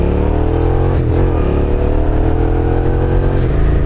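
A 2006 Suzuki SV650S motorcycle engine pulls hard over a road bump, its loud, close engine note holding steady with a brief dip and rise in pitch partway through.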